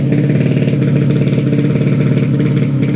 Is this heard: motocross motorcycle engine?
yes